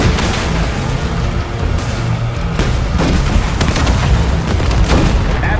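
Tank cannon fire and explosions from a T-72 in the Call of Duty Black Ops 6 video game: a loud, continuous rumbling barrage with repeated heavy booms and blasts throughout.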